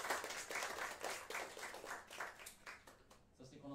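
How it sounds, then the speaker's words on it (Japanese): Audience clapping at a band's first live show as a support bassist is introduced, a brief, fairly quiet burst of applause that fades out as a voice begins. "拍手。"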